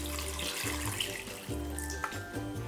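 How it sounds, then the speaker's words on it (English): Water is poured into a pot of chicken biryani curry, a close, splashy running-water sound in a few uneven gushes lasting a couple of seconds. "and then we're going to add water."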